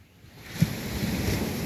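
Ocean waves washing onto the Kenyan coast at Mombasa in front of a house, a swelling surf rush building from quiet to a steady roar, with wind noise and no voices.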